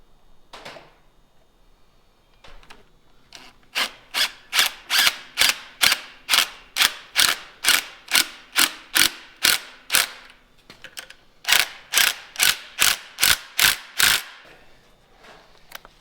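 A 3/8 socket ratchet works a bolt on a small-block Chevy engine, with two long runs of rapid, evenly spaced clicking strokes separated by a short pause, close and loud, no talk.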